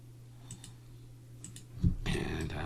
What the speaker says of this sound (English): So I'm just clicking on these.